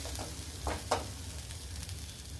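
Chana dal sundal being mixed with ground coconut in a pan for a Navaratri offering, giving a few soft scraping stirs over a low steady background hiss, close and fairly quiet.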